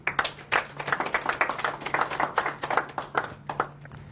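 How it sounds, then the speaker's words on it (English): An audience at a talk gives a round of applause: dense, close clapping from many hands, steady and sustained for several seconds without pause, with a faint voice. "Let's give them a round of applause,"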